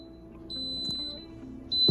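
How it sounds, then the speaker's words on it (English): A pressure cooker cooking rice sounds a few high electronic timer beeps over a low steady hum, clear and fairly close, with a final louder tone at the end. "once this timer is done, we officially have rice ready."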